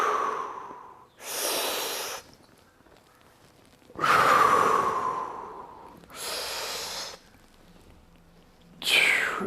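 Slow, deep yoga breaths during a recovery session for cyclists, alternating long audible inhales and exhales in a calm, close, unhurried rhythm with quiet gaps between them.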